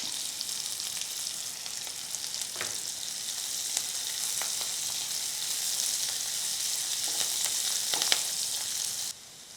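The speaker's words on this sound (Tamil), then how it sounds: "வெங்காயம் ஓரளவுக்கு வதங்கிருச்சு" Onions sauté in oil with curry leaves and salt in a pan, giving a steady close sizzle that holds for the whole stretch, with a few faint stirring scrapes and no talking.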